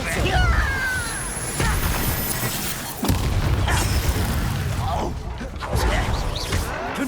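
Spell explosions from the Confringo fire curse in the Hogwarts Legacy video game, several booming blasts with crashing debris during a goblin camp fight, loud and close amid busy game sound, with speech-like game audio around them.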